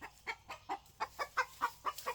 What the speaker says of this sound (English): Oh, it's our rooster over there.